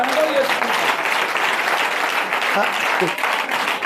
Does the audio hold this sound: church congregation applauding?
yes